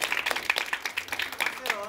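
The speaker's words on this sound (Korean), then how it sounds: "박수 한번" Short burst of applause at a Korean rap battle event, close and fairly soft, a quick run of handclaps from the audience.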